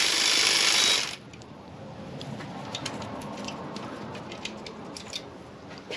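A ratchet clicks slowly and lightly in a series of soft ticks while undoing 10mm screws on a 2.5L Toyota Camry engine from 2012-2017, following a brief burst of louder hiss at the start.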